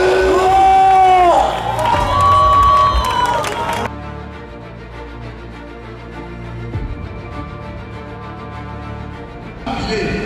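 A church congregation in Côte d'Ivoire cheering and acclaiming during a worship service: loud crowd shouts at the start over sustained music, settling into steady tones with a swell of voices again at the close.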